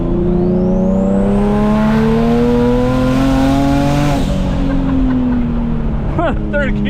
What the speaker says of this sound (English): I'm gonna do a third gear pull. Watch how hard third gear hits